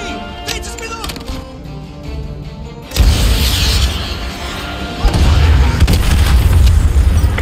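Several AGM missile explosions in Call of Duty: Modern Warfare 2 Remastered hit as loud, deep booms. A heavy blast lands about midway, a second surge of rumbling detonations follows, and dense low-end roar carries on to the end.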